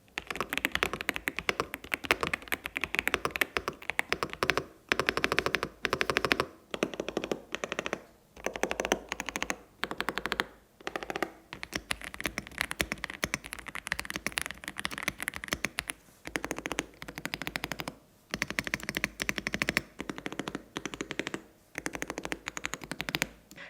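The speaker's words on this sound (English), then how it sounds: "I'm able to hear more of the keyboard structure and that plasticky hollow sound" Steady, rapid clacking of a Kreo Swarm 65 mechanical keyboard being typed on, plasticky and hollow, with brief pauses between bursts; close and fairly loud, no voices.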